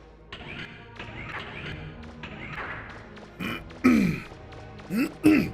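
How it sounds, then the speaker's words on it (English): A man clears his throat a few times near the end, short harsh guttural bursts close to the microphone over background game music and effects. "I habitually clear my throat so damn much"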